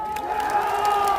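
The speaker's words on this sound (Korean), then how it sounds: "박수 한번 주세요" An audience breaks into applause and cheering at a Korean public gathering, a short, close burst of clapping mixed with crowd shouts.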